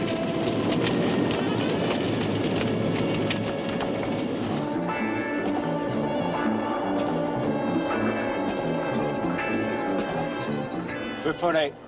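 A suspected seaplane's propeller engine drones steadily through the air and comes down on the water near a shore, the loud continuous hum shifting in pitch toward the end, mixed with wind and voices.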